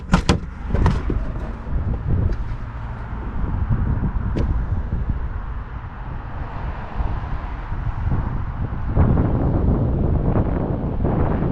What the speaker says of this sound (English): There's a bit of wind, although it isn't cold.